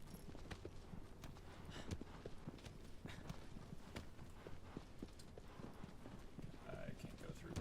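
Horse hooves clip-clop steadily in Shadow of the Colossus as an unruly horse is ridden toward the Colossi, a brisk rhythmic patter under constant game ambience and background noise.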